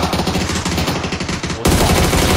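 Rapid automatic gunfire in a video game, loud and continuous bursts of shots that cut abruptly into a denser, sustained barrage.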